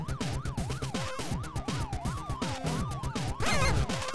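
A police siren in the retro-styled video game Retro City Rampage wails in repeated rising and falling sweeps over chiptune-like game audio, ending with a louder crash-like burst.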